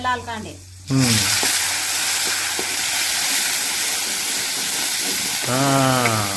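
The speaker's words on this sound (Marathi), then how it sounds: "आता बसली याला फोडणी" Loud, intense sizzle as red chili powder hits hot oil for tempering, a sustained hiss that bursts in and stays strong, with a voice briefly speaking at the start and end.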